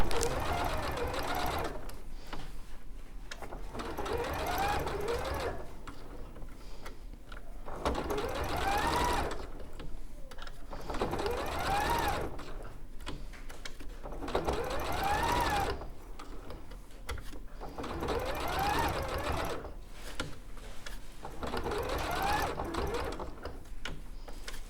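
A domestic sewing machine stitches quilt pieces around a curve in bursts of fast, rhythmic whirring, stopping and restarting roughly every few seconds, close and steady with brief pauses between runs.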